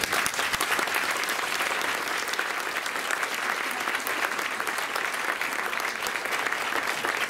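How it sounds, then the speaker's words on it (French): Sustained audience applause at an awards ceremony, dense and steady throughout, many hands clapping with no pauses and no voices standing out. "je vous demande d'applaudir"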